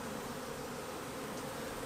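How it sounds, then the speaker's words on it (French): A steady, close drone of many honeybees humming together on a hive frame fills the whole moment without pause or voices. "là il y a encore vachement d'abeilles dessus quand même"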